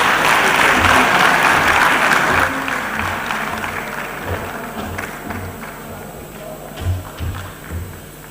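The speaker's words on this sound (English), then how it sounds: "Please can we give her another round of applause?" Loud audience applause at the Lagos Employment Summit 2022, a dense burst of clapping that thins and fades over several seconds, with low thuds and some voices underneath.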